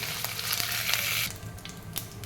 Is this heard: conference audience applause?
no